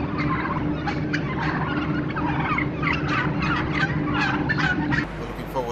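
A flock of traditional farm fresh turkeys on a farm at Market Weighton gobble in repeated overlapping bursts, loud and close, a dense chorus of rattling calls with no talking.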